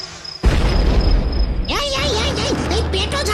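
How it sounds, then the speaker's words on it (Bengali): A heavy cartoon bomb blast booms with a dense crackling roar that keeps rumbling, while an animated character shouts over it. "উড়ি বাবা রে, বোমা ছাড়ছে কে?"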